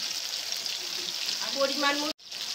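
Tomatoes and salt dropped into a hot pan for a fish curry, giving a close, steady frying sizzle throughout, briefly cut off near the end, with a voice speaking over it.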